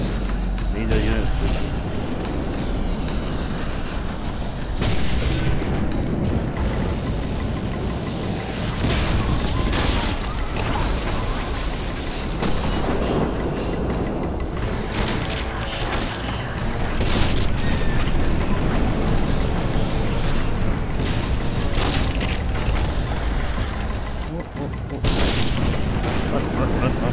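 Rumbling booms and bursts of gunfire from a battle in The Witcher 2: Assassins of Kings, dense and continuous across the scene, with loud impacts recurring every few seconds and voices shouting over the din.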